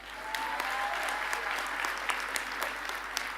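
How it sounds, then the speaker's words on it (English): Audience applause at a spring graduation ceremony, a steady dense wash of many hands clapping from a large crowd, sustained and fairly even throughout without voices on top. "You can give it a round of applause."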